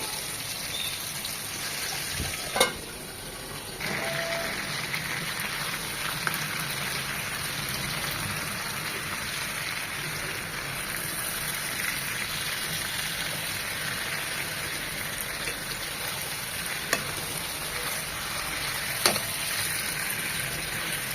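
Large barbecue chicken pieces frying over medium heat in smoky oil, a steady soft sizzle running throughout with a few sharp clicks, no talking.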